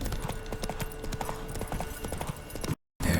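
Roach, a horse in The Witcher 3: Wild Hunt, galloping with steady rapid hoofbeats close by in a game scene, brief silence near the end before the hooves resume.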